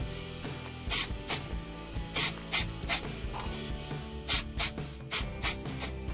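Short bursts of superglue activator hiss from a spray can during woodturning work on a larch bowl, about ten sharp close puffs in an uneven rhythm over a rattling mechanical background.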